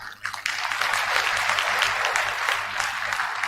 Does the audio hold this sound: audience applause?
yes